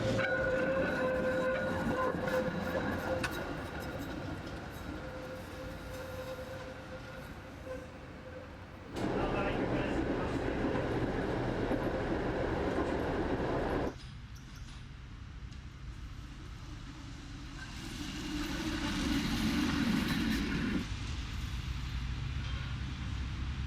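Brussels tram rolling along its rails, a steady rumbling run with shifting wheel noise and segments of louder grinding, heard close and continuous with no talking.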